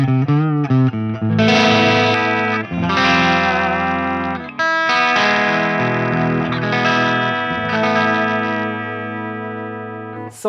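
A Peavey Triple XXX tube amp played through its clean channel with the volume cranked breaks up into crunchy distortion, sustained electric guitar chords ringing loud and full, alone.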